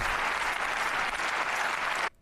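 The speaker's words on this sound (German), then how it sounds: "Sie klatschen alle." Thick, even clapping from a studio audience at a German TV talk show (Hart aber Fair) carries on without a break and then cuts off abruptly near the end.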